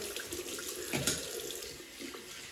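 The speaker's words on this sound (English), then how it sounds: "Cold water." Cold water running steadily from a tap into a sink, a continuous soft splashing hiss with a small bump of splatter midway, fairly faint and close, no talking.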